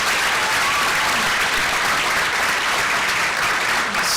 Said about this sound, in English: how about just one more round of applause for our 4 students here